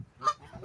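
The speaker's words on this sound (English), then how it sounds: "Here come the geese from just now." Geese honk in a short burst of a couple of nasal calls in an autumn forest near a small bird-feeding station, fairly close and clear.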